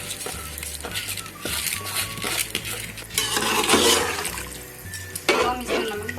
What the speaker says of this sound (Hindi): अब हम इसमें चावल डाल देते हैं अपने।